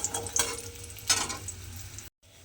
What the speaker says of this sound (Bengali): বড়িগুলোকে কিন্তু প্রথমে লাল করে একটু ভেজে নিতে হবে